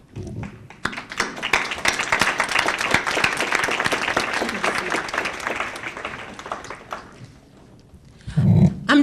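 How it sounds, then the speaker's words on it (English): Audience at a conference applauding, clapping rising quickly to a full, dense round, then thinning and tapering off, followed by a short low thump near the end. "I would like to applaud you."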